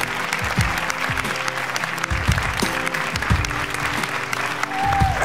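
A studio audience at an X Factor talent show applauds with sustained clapping, rising and falling in waves, with a voice briefly audible over it.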